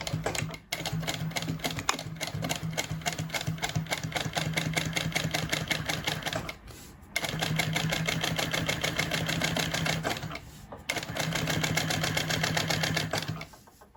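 A sewing machine runs in three sustained bursts, stitching a line close to the seam on a bag's lining, its steady rapid needle chatter broken by brief pauses.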